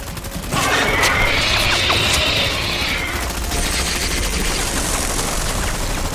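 Rapid bursts of automatic gunfire in a Hindi-dubbed action movie, a loud fusillade of overlapping shots with crashing impacts, continuous across the scene with no talk.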